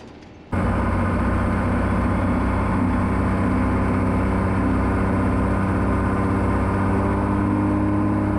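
A 1953 Kenworth Pacific bus fitted with a Cummins 6BT diesel engine drives down the road, its engine drone starting abruptly and holding a loud, steady, close-up rumble and whir without any speech.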